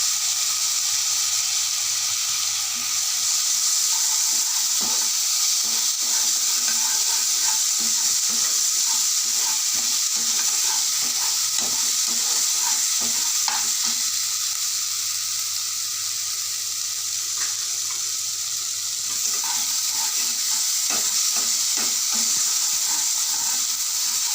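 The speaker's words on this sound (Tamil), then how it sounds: "செவந்த பிறகு தக்காளி பூண்டு பச்சை மிளகாய் சாப் பண்ணதை இதில் போட்டு வதக்கணும்" Chopped tomato, garlic and green chili sauté in a pan for a radish ball gravy, producing a steady moderate sizzle with repeated soft scraping stir strokes throughout, no one talking.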